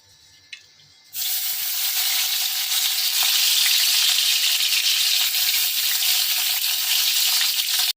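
Chopped garlic dropped into hot oil for chilli chicken, bursting into a loud, steady sizzle after a second of quiet and hissing continuously until it cuts off; no talking.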